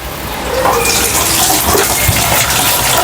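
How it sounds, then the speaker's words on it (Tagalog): Tap water gushes steadily into a basin for washing dishes, a loud, continuous close-up splashing rush with no speech. "Tapos ang gripo mo ganito."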